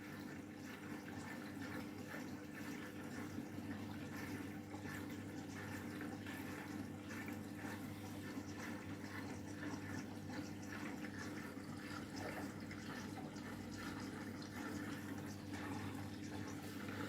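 A Candy washing machine on a cottons cycle fills its drum with water before the final rinse, giving a steady, continuous rushing hiss with a low hum underneath, unchanging and alone with no talk.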